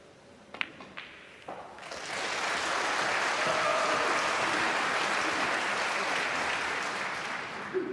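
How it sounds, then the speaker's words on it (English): Loud crowd applause and cheering swells up at a snooker championship quarter-final after a few sharp taps, then holds as a dense, sustained roar before easing slightly toward the end. "the cheering there was for Ding, by the way, on the other table"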